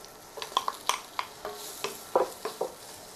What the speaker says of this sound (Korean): 양파를 먼저 볶아도 되고 흰색을 먼저 해도 되고 아스파라거스를 해도 되고 순서대로 볶아낼게요.